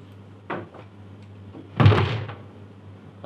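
A door slams shut indoors with one heavy, resonant thud, following a softer knock a moment earlier, fairly close against a low steady hum.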